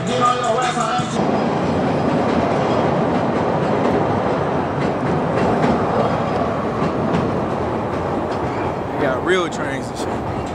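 A train rolls past on rails in Chicago, loud and close with steady rumbling and clatter throughout, ending in some metallic squeals; a voice speaks briefly at the start.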